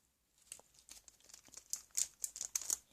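Clay mixture is pushed into a plastic zipper bag, making a series of crisp, close crinkles and rustles that start quietly and grow denser and louder.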